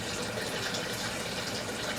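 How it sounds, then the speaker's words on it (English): Water poured into a plastic bag, a constant hissing gush of liquid with no breaks, close and moderately quiet. "And then I put water in the plastic bag"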